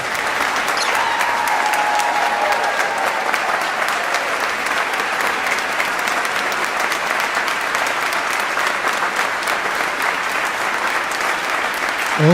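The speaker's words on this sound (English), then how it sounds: "Oh yes, hear those claps, huh? Hear those clapping." A storytelling event audience claps steadily and loudly for the whole stretch, a dense, even wash of applause with no voices above it.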